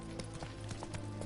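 A horse gallops in The Witcher 3 video game, its hooves beating a quick, steady clip-clop rhythm close by over a dense game soundtrack.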